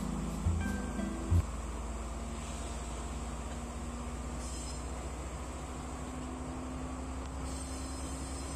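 Udarata Menike passenger train running along the railway, a steady low rumble of wheels on track with a sustained hum, one or two brief knocks near the start, continuous and moderately loud throughout.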